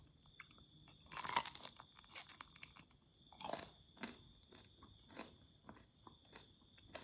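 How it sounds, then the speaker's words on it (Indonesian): Crunchy bites into crispy fried cireng, a tapioca snack, with a loud crackling bite followed by a second, then softer irregular chewing crunches, close up against quiet background. "Kita coba gigit."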